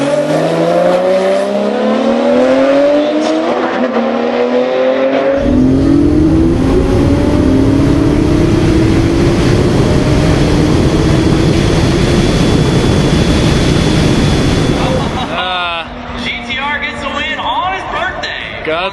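Street car race at a Street Car Takeover event, a gray car running against a black turbo Porsche: loud engines rev and accelerate hard with rising gear pulls, a sudden shift in tone partway through, and crowd talk heard under the roar near the end.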